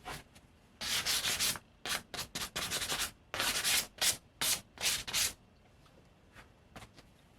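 Mandalorian breastplate armor pieces are sanded by hand in close, raspy rubbing strokes. The strokes come in irregular bursts, some short and some longer, with brief quiet pauses between them and no voices.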